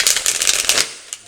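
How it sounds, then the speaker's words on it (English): Tarot cards being shuffled by hand, a dense run of crisp riffling flutters for most of a second, then trailing off with one last short snap, close and alone. "Let's go ahead and shuffle these a little better."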